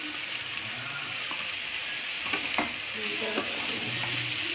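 Oil sizzling in a pan while potato masala cooks for poori, a steady close hiss with a few light stirring scrapes, no talk.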